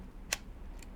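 A Contax rangefinder camera shutter is released with one crisp, close mechanical click, followed by a fainter second click, against quiet room hiss.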